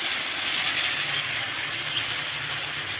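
Grated ginger and garlic fry in hot oil for a chilli chicken dish, giving a steady, loud, close hiss of sizzling that runs unbroken throughout with no voices.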